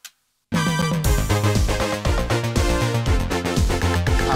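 Electronic music track heard without mastering EQ: a short faint blip and half-second of silence, then a dense, punchy mix kicks in with steady driving beats and bright synth layers, loud and upfront.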